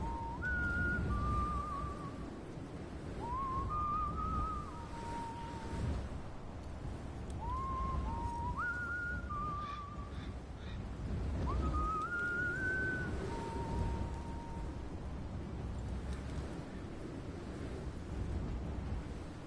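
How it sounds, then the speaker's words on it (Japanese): Sam whistles a short melodic tune in the video game Death Stranding, several rising and falling phrases heard clearly over a soft, rumbling outdoor ambience, no talk. "空気読んでサム口笛吹いてくれた"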